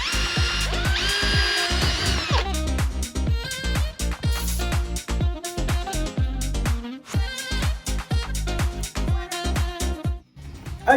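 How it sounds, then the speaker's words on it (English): A power drill with a 6mm bit bores holes in a van's front splitter for M6 bolts, the motor whirring loudly in repeated bursts with short pauses, ratcheting clicks and close, steady mechanical noise throughout. "we want to drill those out with a 6mm drill bit for the M6 bolts"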